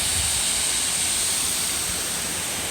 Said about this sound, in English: There's a beautiful waterfall.